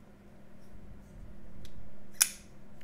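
A Tecnocut Viper Katla folding knife with a marble carbon fibre handle flips open: a few faint small ticks, then one crisp, close snap of the blade locking, in a quiet room.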